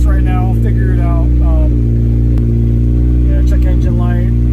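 An Acura Integra engine idles high at about 2,000 RPM with a steady, loud, even drone. A person talks over it throughout.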